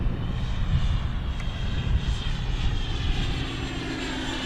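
Banana Hobby Aerofoam Diamond RC jet with a 105mm electric ducted fan on 12s power flying a pass with flaps out, a steady whooshing fan roar at moderate distance with no talk.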